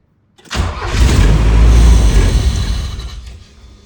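A Volkswagen Scirocco engine catches on start and fires for a second or two, a loud, rough, close-up roar that swells, holds and then dies away, with no voices over it.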